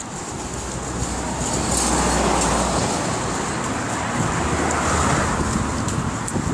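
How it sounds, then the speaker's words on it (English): Cars passing on a road, a continuous loud traffic rumble and whoosh throughout, with no talking. "Sorry about cars"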